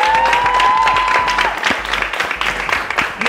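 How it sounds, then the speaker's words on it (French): A television studio audience applauds as a guest arrives on set, with steady dense clapping throughout and a sustained whistle or tone sliding over it early on. "On applaudit pour l'accueil."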